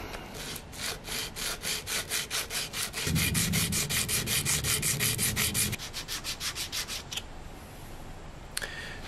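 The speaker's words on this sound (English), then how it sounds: "So I'm going to lay my sandpaper on the fretboard directly, try and sand a radius into the bottom of this nut." A guitar nut is rubbed back and forth on sandpaper laid over a fretboard, giving a steady rhythmic rasp of quick even strokes, close and loud, with no talking.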